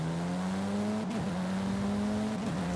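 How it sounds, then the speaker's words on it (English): A front-wheel drive race car in Forza Horizon runs at a steady, loud engine drone with a buzzy exhaust note, briefly dipping and wobbling twice as the revs shift, in wintry conditions. "Not a bad exhaust note from this one"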